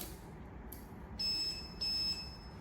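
A smart cane for the visually impaired gives short electronic beeps as it switches from outdoor to indoor mode: a faint chirp, then two longer steady high-pitched tones, clear over a low background hiss.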